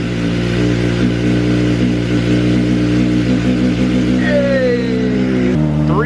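A 2024 Kawasaki ZX-4RR revs steadily during warm-up, a loud, close, high-pitched whine that holds at a constant speed, then climbs briefly before cutting back to idle near the end.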